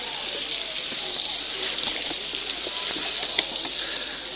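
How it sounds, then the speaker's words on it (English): Steady broadband rushing of water from a waterfall near Sintra, Portugal, heard from nearby, continuous and fairly loud with faint splashy detail. "That's the waterfall down there"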